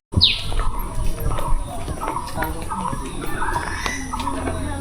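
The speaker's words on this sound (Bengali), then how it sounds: "মাঝে মাঝে পাখির কিচির মিচির ডাক ছাড়া আর কিছুই শোনা যাচ্ছে না" Small birds chirp and tweet intermittently in the open grounds around the Bangabandhu mausoleum. The calls are scattered and moderately close over a low background hum, with a sharp high note right at the start.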